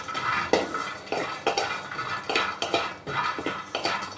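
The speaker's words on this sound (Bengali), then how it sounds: "এবার বাদামগুলো একটু ভেজে নেব হালকাভাবে, খুব বেশি ভাজবো না যাতে পুড়ে না যায়" A handful of peanuts being dry-roasted in a wok, rattling and scraping in regular rhythmic bursts as a spatula tosses them against the metal, close and fairly loud with no speech.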